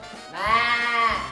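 A single sheep bleats loudly and close, one sustained wavering cry lasting about a second, on a farm-animal sound segment of a Mongolian TV show.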